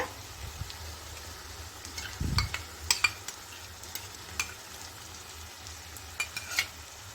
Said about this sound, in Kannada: ಈ ಮೊಸರನ್ನ ಚೆನ್ನಾಗಿ ಇದ್ರ ಜೊತೆಗೆ ಬೆರೆಯೋ ಥರ ಮಿಕ್ಸ್ ಮಾಡ್ಕೊಳ್ಳಿ